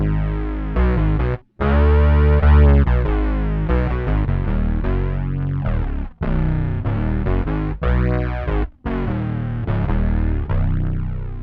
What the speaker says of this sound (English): it sounds even cooler once you stick some modulation on there as well. So that's the double tracker, the chorus.